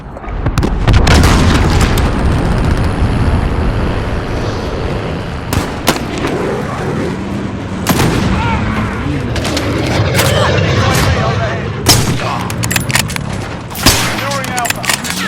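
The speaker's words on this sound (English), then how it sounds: "Enemy cruise missile incoming." Cruise missile strikes in a video game shooter land as heavy booms amid dense gunfire and a constant battlefield rumble, loud and close, with game voice lines woven into the mix.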